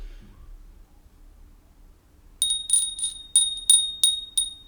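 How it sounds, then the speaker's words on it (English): A little hand bell rings seven times in an uneven rhythm, each strike bright and close with a short ringing tail, following a few seconds of near silence. "So I'm going to ring a little bell now."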